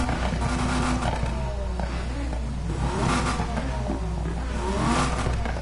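A video game car with a Dodge Viper engine swap revs and roars continuously, rising and falling in pitch over a steady loud rumble.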